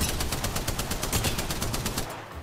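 Rapid automatic gunfire in the battle royale shooter Apex Legends, a dense, loud, steady stream of evenly spaced shots that carries on for over two seconds before cutting off abruptly near the end.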